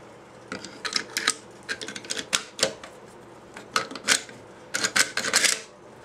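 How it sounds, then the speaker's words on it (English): Metal parts of a Draco Mini AK pistol click and clack as the bolt is dropped into the bolt carrier, a close burst of sharp irregular mechanical clicks with no talk. "Next we'll drop the bolt down."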